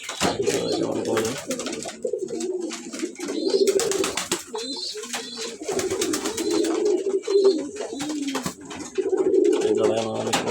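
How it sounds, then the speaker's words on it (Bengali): Pet pigeons, including collared and black males, coo in repeated low throaty phrases close by, with soft rustling and occasional faint chirps between the calls. "শখ করে পালি তো, শখের আমার, শখের কবুতর এগুলো আমার।"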